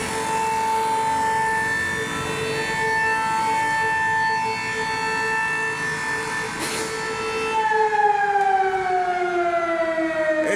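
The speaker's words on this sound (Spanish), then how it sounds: "Un pito que indica que son las 12 del mediodía." A noon whistle siren in San Francisco de Macorís blares a long, steady wailing tone across the city, loud and sustained, with its pitch sliding slightly downward near the end.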